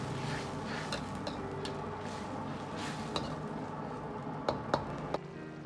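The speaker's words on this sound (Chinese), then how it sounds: "然后用勺子推动，让粉条都浸泡在汤汁中" A spoon pushes glass noodles through sauce in a pan, a steady soft stirring and simmering texture close by, with a few sharper clicks of the spoon against the pan near the end.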